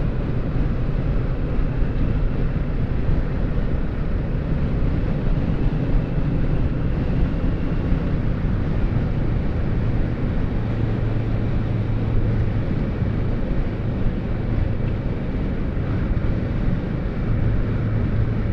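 A responsive motorcycle engine, compared with a Kawasaki Vulcan S, hums steadily under a little throttle for about eighteen seconds, a continuous loud drone mixed with wind noise and no talking.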